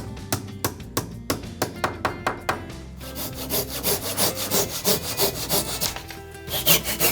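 A hand saw cuts dados in wood for traditional joinery in an altar room addition, first with sharp separate strokes and then with a steady, fast back-and-forth rasp, close and loud, with no voices.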